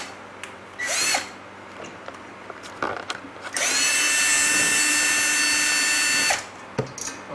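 Power drill backing screws out of the heatsink housing of a Chauvet Q-Spot 260 LED fixture: a short burst, then a sustained close, loud whine of about three seconds, with clicks and handling noise between.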